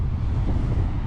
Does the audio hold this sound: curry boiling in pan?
no